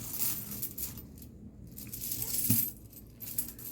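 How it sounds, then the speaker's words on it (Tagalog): 20-peso coins drop into a Red Horse coin bank, giving metallic clinks and a sharp rattling strike amid noisy handling, close and fairly loud. "Ang ilalagay natin ng barya tigbi 20."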